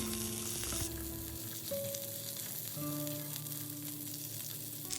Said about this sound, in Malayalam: ചെറിയ ഉള്ളിയും ചേർത്ത് കൊടുത്ത് നന്നായിട്ട് വഴറ്റണം